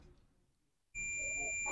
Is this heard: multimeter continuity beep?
yes